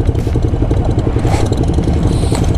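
Ducati Diavel motorcycle engine running on a dirt surface: a loud, close, continuous throbbing rumble with steady rapid pulsing and some rattle over the whole stretch.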